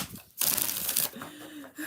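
A quick riffle of shuffling cards, a brief papery flutter lasting under a second, followed by softer handling noise.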